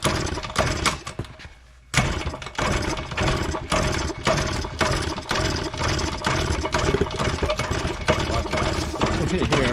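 A 1979 Yamaha moped that had been sitting for years, its small engine catching after a kick start and running with a loud, uneven, buzzing putter, preceded by a brief quieter moment, while someone talks.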